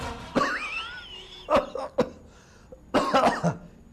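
Several sharp coughs in short bursts from a person with a cold and fever, close and fairly loud, separated by brief pauses, with no talking.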